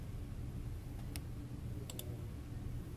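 A few crisp mouse clicks, one single and then a quick close pair, sound sharply over a steady low background hum, with no talking.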